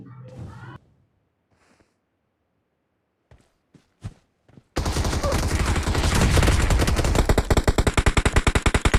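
Gunfire in the Free Fire battle royale game: after a near-silent stretch with a few faint taps, loud rapid automatic bursts erupt and keep hammering in a fast, even rhythm to the end.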